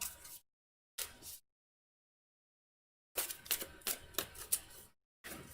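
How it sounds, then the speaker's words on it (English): Board game cards for Tainted Grail: The Fall of Avalon are shuffled close up in short bursts of riffling and snapping, separated by silent gaps, with a longer rapid flurry of card slaps near the end. "So we're going to shuffle this up a little bit and then draw 3."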